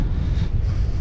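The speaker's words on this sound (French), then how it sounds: "Mais le vent s'est levé." Coastal wind buffeting a microphone while cycling along a flat seaside road, a loud continuous rumbling roar with no voices.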